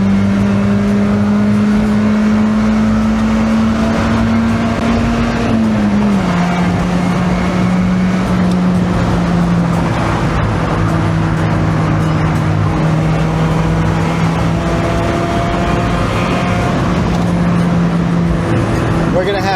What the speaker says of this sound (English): Let's rev it out. Oh, 60 miles an hour in 2nd gear.